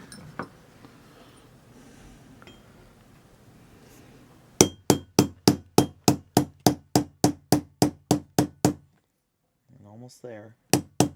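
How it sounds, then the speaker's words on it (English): Sharp, evenly spaced metallic whacks from a gunsmithing hammer drive a roll pin into a Springfield XD9 pistol slide, about fifteen loud clangs in a steady rhythm after quiet talk, then a short pause, more talk and two final strikes. "I'm going to give it a few good whacks with my gunsmithing hammer here"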